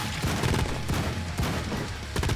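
Rapid, dense gunfire from a mini gun in the video game Madness: Project Nexus rattles on continuously at close range, loud and unbroken for the whole stretch.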